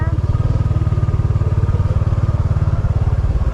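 A motorcycle engine chugs at a steady, fast idle close by, its even pulsing beat running throughout while the bike is being moved.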